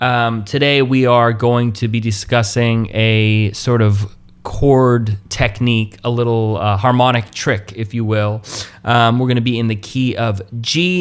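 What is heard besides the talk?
No distinct noise like a dog, phone or traffic.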